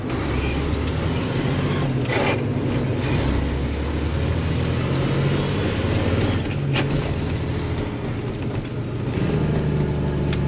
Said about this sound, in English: Jake brake works